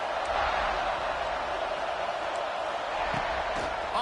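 Steady crowd roar filling a college football stadium, a continuous dense wash of voices with faint whoops rising now and then, heard from a distance.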